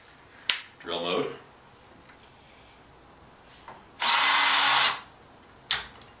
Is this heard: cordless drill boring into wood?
yes